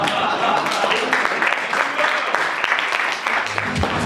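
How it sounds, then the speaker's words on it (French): An audience at a 2016 student union campaign debate applauds Maria, a dense, steady patter of many hands clapping that stays even throughout with a murmur underneath. "vous pouvez applaudir Maria,"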